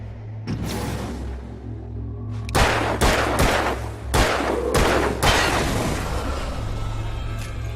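Gunshots in an Alan Wake video game cutscene: a single shot, then a quick cluster of sharp, loud blasts in uneven rhythm over a low ambient hum.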